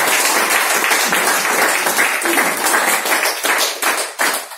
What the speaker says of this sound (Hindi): तालियां होनी चाहिए डॉक्टर लिन।